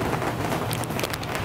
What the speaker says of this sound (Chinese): 竟然给我下雨